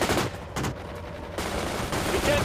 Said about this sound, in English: Fire some machine gun!